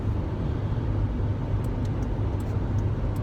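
A car driving with steady low road and engine rumble filling the background, continuous and fairly loud, with no talking.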